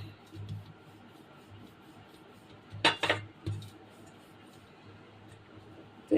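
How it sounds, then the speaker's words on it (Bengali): Fork lightly scoring lines across thick rolled biscuit dough, soft faint scraping under a quiet room hum, with a short burst of sharper metallic clinks midway. "কাঁটা চামচটা দিয়ে এরকম হালকা করে উপরে দাগ কেটে নিচ্ছি"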